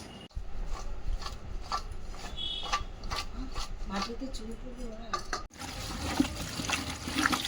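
Pumpkin greens are being washed by hand in water, with wet rustling, sloshing and trickling that come in uneven bursts, plus a faint voice in the background.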